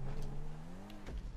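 A fast car in a video game accelerates, its engine note climbing steadily through a gear, loud and close, before a brief crunchy burst near the end, with no voices over it.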